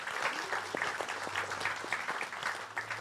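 An audience at a gaming fan event applauds a panel member being introduced, a moderately distant, steady patter of many hands with a faint low hum underneath.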